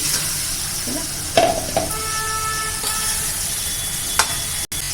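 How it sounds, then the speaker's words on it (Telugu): Pomfret fish pieces sizzle steadily in hot oil and masala in a pan for a Godavari-style curry, a constant loud frying hiss with a few brief clatters and stirring touches, no voices. "ఆయిల్ మసాలాలు అయ్యి ఇందులో చేప ముక్కలన్నీ వేసేసి"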